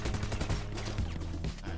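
Rapid, dense gunfire in the video game GTA 5 Online: overlapping bursts of shots crackle continuously and loudly throughout, like a sustained firefight.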